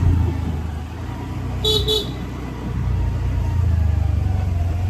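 A car passes on a road, its engine rumble swelling and fading nearby, with a short double horn toot partway through.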